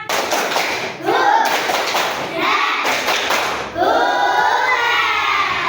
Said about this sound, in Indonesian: 1, 2, 3, tepuk semangat